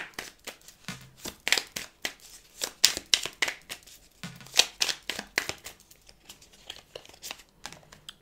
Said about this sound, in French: Je vais rajouter quelques cartes.